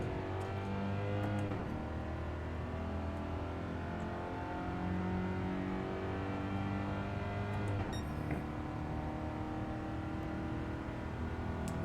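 A classic European compact car in Gran Turismo 7 drives hard through corners, the engine revving and climbing through the gears with a brief shift dip, a continuous steady drone at moderate level.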